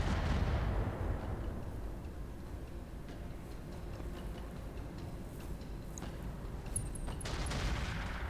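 Autocannon fire in the Roguetech BattleTech video game opens with a heavy booming report that rolls off into a long rumbling tail, followed by faint ticking and small clicks.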